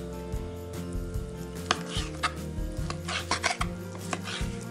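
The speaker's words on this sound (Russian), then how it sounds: "Я буду нарезать грудку. Я ее буду нарезать соломкой." A knife cuts chicken breast into thin strips on a cutting board, giving a steady series of soft chopping taps and scraping strokes, close and without talking.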